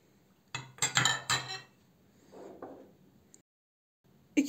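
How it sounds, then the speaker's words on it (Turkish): Two eggs cracked against the rim of a bowl for külünçe dough, heard as a quick run of sharp clinks and taps close by, a softer sliding sound after, then a brief knock at the end. "İki yumurta ekliyorum."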